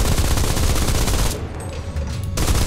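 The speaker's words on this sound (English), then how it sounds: "I love this machine gun on this thing." Machine gun fire in the War Thunder video game, a loud dense rattle of rapid shots that drops away for about a second mid-burst before resuming.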